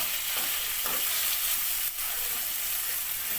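Bitter gourd pieces fry in a pan with a steady, close, broadband sizzle and faint stirring scrapes, with no voices heard.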